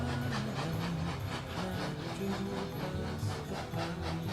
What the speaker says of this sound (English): The first leg of his long journey to the lofty Himalayan foothills was by train to